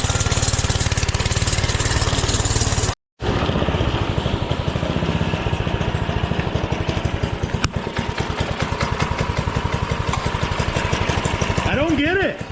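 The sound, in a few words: Doodle Bug mini bike engine running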